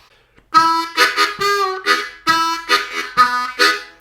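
A harmonica plays a country blues lick with bent draw notes, a quick series of bright, close tones that pulse and swell in short rhythmic phrases, heard alone.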